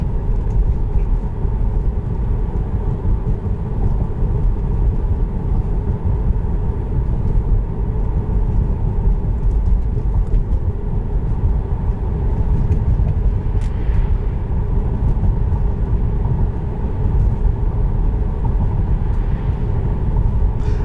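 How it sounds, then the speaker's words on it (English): Cabin road noise in a 2018 Tesla Model 3 driving over bumps: a loud, steady low rumble with scattered thumps and knocks throughout, no voices. "now on camera it may sound like the bumps and all that are loud"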